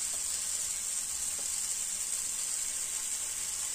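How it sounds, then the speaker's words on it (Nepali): Veg paratha batter sizzling on a hot pan, a steady, hissing fry heard close and continuous with no talk. "अब भेज परौठा पोल्नको लागि 1 डाडु र थोरै राख्दैछु"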